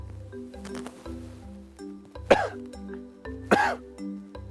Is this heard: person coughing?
yes